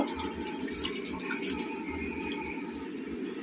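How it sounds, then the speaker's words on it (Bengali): Water pours steadily into a pot of alur dom (potato curry), a continuous splashing, gurgling stream close by. "পোস্তও কিন্তু সেম, এর মধ্যে আরেকটু জল দেব।"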